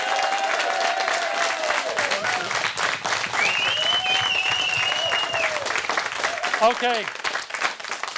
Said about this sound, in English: Ladies and gentlemen, Dana, give her a round of applause.